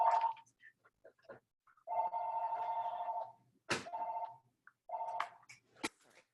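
Telephone ringing in a home office, several fairly faint electronic rings in separate bursts with quiet gaps between them and no talking.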